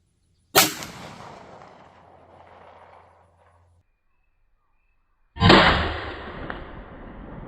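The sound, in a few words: custom .410 slug handload gunshot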